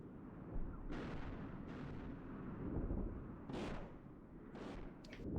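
Tank gunfire from the Steel Beasts Pro simulator sounds as several distinct sharp shots spaced about a second apart over a low rumbling engine and battlefield bed, fairly faint and distant.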